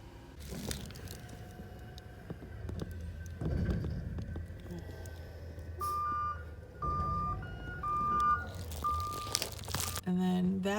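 A truck packing and unpacking outside in the early morning gives off a low idling rumble, several evenly spaced reversing beeps, and scattered thuds and crunches. Some speech is mixed in.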